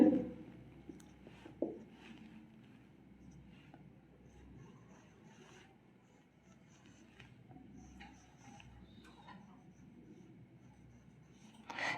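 A pen scratches faint, soft strokes across paper while a Wheatstone bridge circuit diagram is drawn by hand, with a few sharper taps at the start and end.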